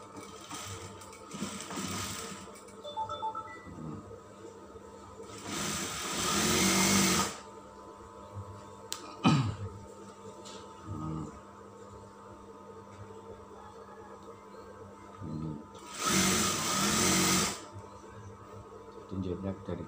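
A sewing machine stitches a kebaya collar in short bursts of whirring, two longer runs and several brief spurts separated by pauses, with quiet talking between them.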